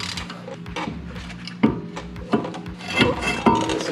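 A T30 Torx bit turns and loosens a bolt on the wheel bearing of a Mercedes W211 E-Class, giving close metallic clicks, ratcheting and scraping knocks in an uneven rhythm, with no talking.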